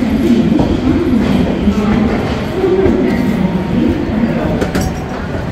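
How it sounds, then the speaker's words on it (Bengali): Mithila Express pulling out of platform 8 at Howrah Junction, a steady low rumble of rolling rail cars with faint wheel clatter, continuous and close, with a voice speaking over it. "8 নম্বর প্ল্যাটফর্ম থেকে কিন্তু ট্রেন ছাড়লো।"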